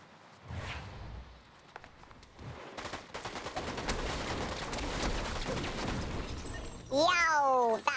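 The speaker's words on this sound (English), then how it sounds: "I can sense some shooting going on." Rapid bursts of gunfire in the video game Fortnite during a ranked zero-build match, dense and sustained through the middle, under game effects and a player's voice talking over it.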